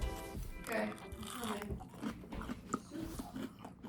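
A bite into a crunchy, breaded, air-fried vegan mushroom, followed by close, soft crunching and chewing, with someone speaking over it.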